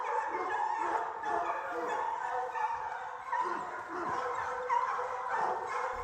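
Hunting dogs yelp and bark in an excited, continuous chorus during a lively wild boar drive after a young boar, with overlapping cries throughout at moderate distance and no talking.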